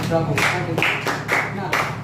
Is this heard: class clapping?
yes